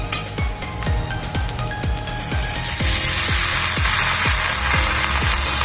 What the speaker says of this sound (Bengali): সবজিগুলো দিয়ে ভালো করে ভেজে নেব।